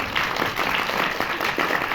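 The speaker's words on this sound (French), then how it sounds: "il faut aussi applaudir Yoon" An audience at a film screening in a French cinema applauds a translator, with steady continuous clapping that fills the space at a fairly loud level.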